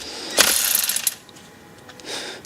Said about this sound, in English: Just those two bolts to remove, both take a 12mm socket.